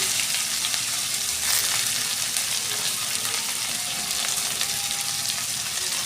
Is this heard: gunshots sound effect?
no